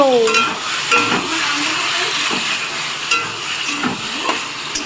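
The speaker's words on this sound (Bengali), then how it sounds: "আজকে আমাদের মাংস রান্না হচ্ছে" Meat curry sizzles and fries steadily in a pan, with a spoon scraping and stirring through it now and then, close and fairly loud, with no talking.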